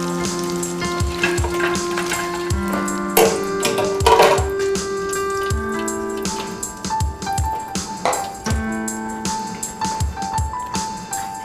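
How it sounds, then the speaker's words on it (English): Sweet potato pieces in tempura batter frying in hot oil, giving a steady close sizzle with crackling bursts throughout and no voices. "These are sweet potatoes that I'm frying off right now."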